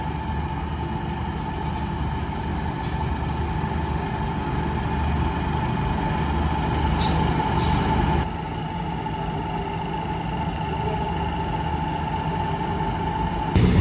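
A Daewoo diesel railcar pulls away from Kantang station, its engine droning steadily at close range with a constant low rumble and hum, a brief swell of noise near the end and no talk.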